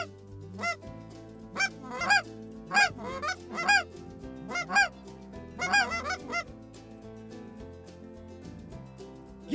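Flock of geese on a Saskatchewan waterfowl hunt honks repeatedly, with clusters of nasal calls in an irregular rhythm, clear and moderately close with no talking.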